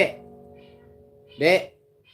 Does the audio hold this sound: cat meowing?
yes